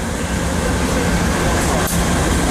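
Helper locomotives shove a passing train, giving a loud, close, continuous rumble and rail roar that fills the whole moment without pause.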